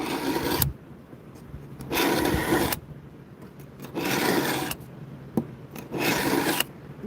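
A fillet knife is drawn through a knife sharpener at a fish-cleaning table, four separate raspy strokes roughly a second long each, close and fairly loud, with short pauses between them.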